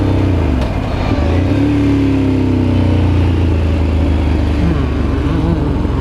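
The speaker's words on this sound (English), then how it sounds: "As you can hear, my exhaust doesn't sound the same anymore." A motorcycle engine with mufflers fitted on its exhaust revs up close, its exhaust rumbling low and throaty, rising and falling in pitch.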